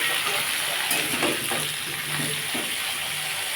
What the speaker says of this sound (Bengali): ও তেলের মধ্যে আমি আলু পেঁয়াজ টমেটো সব একসাথে দিয়ে দিয়েছি এবার এটাকে ভালো করে ভাজতে হবে